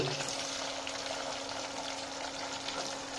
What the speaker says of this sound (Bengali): পেঁয়াজটা একটু ভালোভাবে ভাজতে হবে।